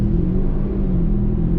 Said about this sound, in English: All right, floor it.